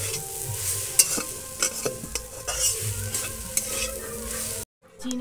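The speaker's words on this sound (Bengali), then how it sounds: "কড়াইতে দিয়ে একটু নেড়ে নেব।" Grated coconut fried with cardamom in a little oil in a wok, stirred with a spatula that scrapes and clinks over a steady loud sizzle, then stops abruptly near the end.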